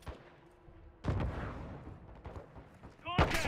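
Gunfire in the video game Modern Warfare 2 campaign: sharp bursts of shots, one strong blast near the middle and another near the end, over a low background hum.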